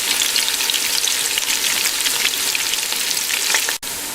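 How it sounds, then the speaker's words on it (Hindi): Finely chopped onions sizzle steadily in hot oil, a loud, close, continuous crackling fry with no voices, cut by a brief dip near the end. "ये बारीक कतरी हुई प्याज हमने ऑयल में डाल दी और इसको हमें हल्का ब्राउन करना है।"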